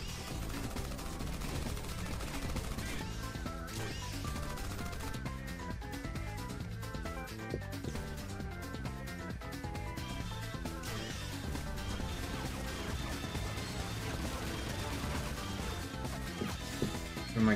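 Gunfire in a winter riverside multiplayer match of the video game Rising Hub, with repeated shots and bursts layered over a dense, steady game soundtrack and effects, fairly loud throughout.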